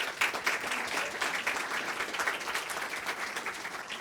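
Steady applause from an audience at an entrepreneurs' demo day, a dense even patter of many hands held at moderate loudness for several seconds with no talk over it.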